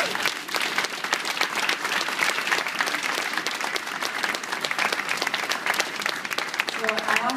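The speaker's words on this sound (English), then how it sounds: "Let's give them a huge round of applause" Applause for volunteers at a Hoboken Hurricane Sandy update gathering: loud, dense clapping from a crowd, sharp overlapping hand claps throughout, with a voice briefly rising near the end.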